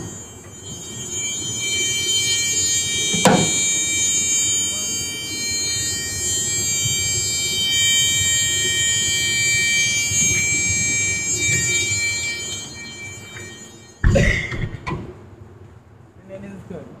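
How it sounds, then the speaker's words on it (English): A school bus buzzer sounds during a pre-trip inspection, a steady high electronic tone holding for many seconds and then cutting off abruptly, with someone speaking over it and engine rumble underneath. "And I'm going to do this now. You'll hear a buzzer."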